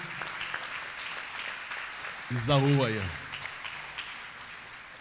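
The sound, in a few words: church congregation applauding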